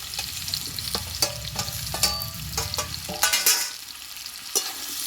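Mixed vegetables for a Bengali five-vegetable curry sizzle in a pan while a spatula scrapes and knocks against the metal in irregular clusters over a steady fry, close by with no talking.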